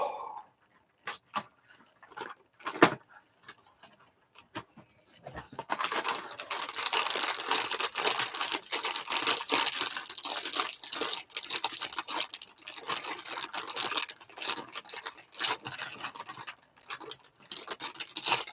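Crinkly plastic rustling, first in scattered short bursts, then a long continuous stretch of handling and crumpling close by.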